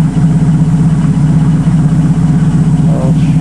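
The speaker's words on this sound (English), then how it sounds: "A nice little burble from those twin pipes." A TVR Griffith sits idling after a winter layup, its engine giving a steady, low, even burble from twin exhaust pipes, loud and close throughout with no talking.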